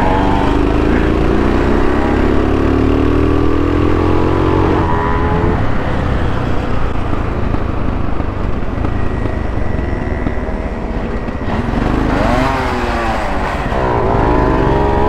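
A Yamaha RX 135 two-stroke motorcycle engine runs loud and close, buzzing at steady revs before dropping and then rising again in a sharp rev near the end.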